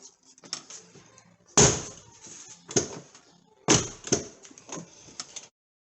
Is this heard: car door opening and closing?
yes